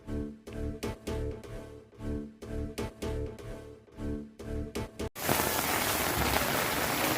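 Heavy rain over a flooded industrial area bursts in as a loud, continuous hiss in the final seconds, after a stretch of rhythmic thumping beats.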